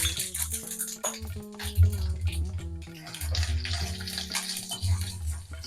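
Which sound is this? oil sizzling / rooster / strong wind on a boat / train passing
oil sizzling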